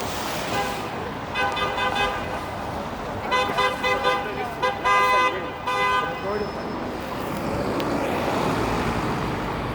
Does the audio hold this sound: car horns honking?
yes